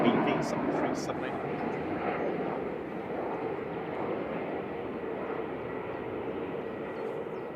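Ryanair Boeing 737-8 airliner from Palma Mallorca at Manchester Airport, a continuous moderate jet engine roar at a distance, slowly easing, with faint voices underneath.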